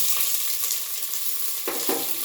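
Onions go into hot oil already holding bay leaf, cinnamon, cloves and cardamom for egg bhurji pulao, setting off a loud, steady sizzle with brief bursts of stirring and clatter partway through.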